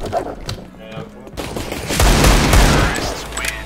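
Gunfire in the video game Counter-Strike: Global Offensive, a quiet stretch followed by a loud, dense burst of rapid shots with booming low impacts that carries to the end.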